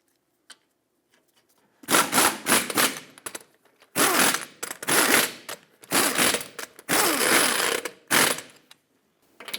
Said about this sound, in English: torque them to 79 foot-pounds